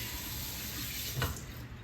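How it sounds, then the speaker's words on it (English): Kitchen tap running for handwashing, a steady close hiss of flowing water with a brief splashy burst partway through. "Wash my hands."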